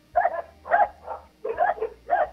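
Dogs barking in short bursts, about five sharp yelps in quick succession close by, with a low hum underneath and no talk.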